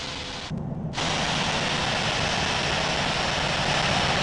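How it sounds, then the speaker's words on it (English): Aircraft taking off from runway 27 left at London Heathrow: a steady, loud broadband engine roar filling the clip, with a brief dip near the start before the sustained rumble resumes. "Moose 17 is taking off runway 27 left, departing straight out"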